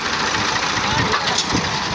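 Tractor engine running under load while pulling with a tow cable, a loud, close, steady mechanical drone with slight knocking texture, voices talking over it.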